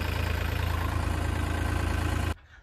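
A farm machine used for loading maize runs with a loud, steady engine drone and a throbbing low rumble, then cuts off suddenly near the end, leaving a faint background.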